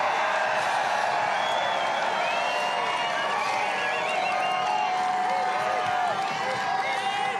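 A crowd at a presidential campaign rally in Freeland, Michigan cheers and applauds steadily, clapping and whoops spread broad under a speaker's voice.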